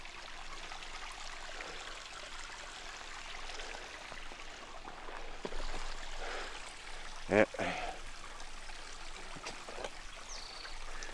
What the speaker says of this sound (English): Still got some water running.